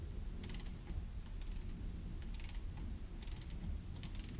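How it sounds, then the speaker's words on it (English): An inch-pound torque wrench ratchets as bolts are run down on a trolling motor during a shaft and armature repair, several short clicking bursts at roughly one-second intervals over a steady low hum, quiet and close. "I got an inch pounds torque wrench. I got it set at 30 right now. We'll go ahead and run them down to 30."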